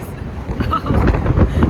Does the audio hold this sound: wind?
yes